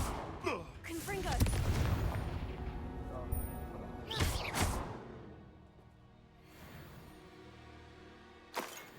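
Confringo blasting spells burst with sharp, crackling explosions in the video game Hogwarts Legacy, several blasts in quick succession at first, another pair a few seconds later and a last one near the end, over game sound and a speaking voice.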